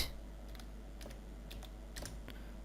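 Computer keyboard typing while entering data into an Excel invoice, a few quick clusters of soft clicks spaced over a faint steady hum, no voices.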